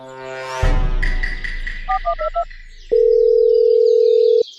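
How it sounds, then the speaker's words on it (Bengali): A rising tone and short beeps lead into a steady, loud telephone dial tone that holds for about a second and a half before cutting off. "এই সুযোগে ঝুনঝুনবালাকে ফোনটা সেরে নি।"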